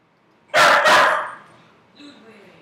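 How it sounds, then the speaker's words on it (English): A dog named Ludwig gives two sharp, loud barks close to the microphone in quick succession, then a faint, brief whine trails off in a quiet room. "Sorry about the barking."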